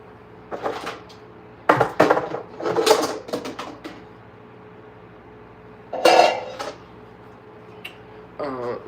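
A cake pan and pots are handled and washed in a kitchen: intermittent clatters, scrapes and knocks of metal cookware in bursts, close by, with quiet gaps between and no talk.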